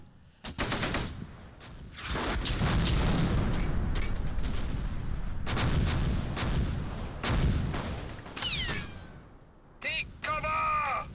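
Artillery fire in the Close Combat World War II strategy game, set around Cassino in June 1944, booms out in loud repeated blasts mixed with machine-gun bursts, with voices shouting and talking between and over the explosions.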